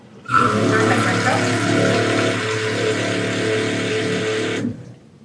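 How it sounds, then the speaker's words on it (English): Tap water runs steadily into a measuring cup for rice in a home kitchen, a loud, continuous splashing stream lasting several seconds before the flow stops. "So I'm going to get some water."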